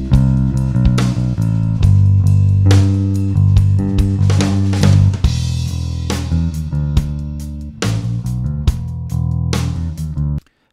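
A drum loop plays continuously and transitions into a second loop, with a crash cymbal splash marking the point where the new pattern begins, dense and loud, with no talking.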